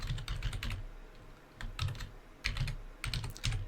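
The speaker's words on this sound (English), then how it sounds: "So we'll give it a name with a .bas extension." Rapid keystrokes on a computer keyboard as a file name is entered with a .bas extension in PowerBASIC, bursts of crisp clicks in short clusters separated by brief pauses, close and without talk.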